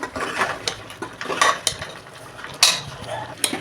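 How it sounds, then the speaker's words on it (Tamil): Mutton being stir-fried with ground masala in a pan for Virudhunagar-style mutton kuzhambu: a metal spoon scrapes and clinks against the pan in irregular strokes, close by, with no talking. "மசாலாவை கொட்டி நல்லா வதக்கி விடுவோம்"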